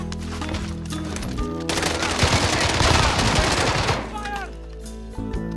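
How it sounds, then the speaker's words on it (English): Video game firefight with rapid machine-gun bursts and scattered gunshots, loud and dense for several seconds before easing off. "If you sort of ignore the gunshots."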